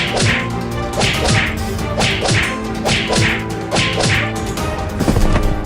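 Cartoon-style hitting sounds as zombies beat someone in an animated horror comedy: a rapid, regular series of sharp whip-like thwacks and smacks, roughly two per second, loud and up close over a busy music bed.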